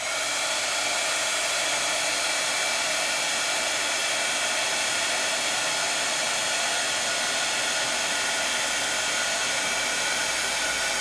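A heat tool melts embossing powder on a craft project, blowing a loud, constant hairdryer-like hiss that holds perfectly steady and close for the whole stretch, with no voices over it.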